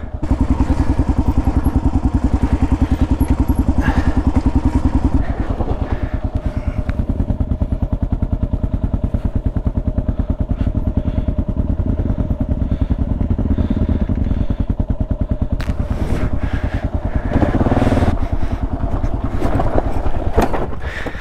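Kawasaki KLR650 single-cylinder dual-sport motorcycle picking its way down a rough mountain trail, its loud, close engine chugging steadily at low revs throughout, with clattering thumps from the rocky ground and brief bursts of throttle.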